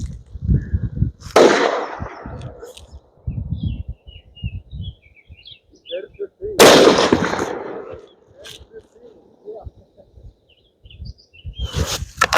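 Two loud rifle gunshots at an outdoor shooting range during load development, each a sharp crack with a rolling echo, spaced several seconds apart, with quieter handling noises and faint bird chirps between.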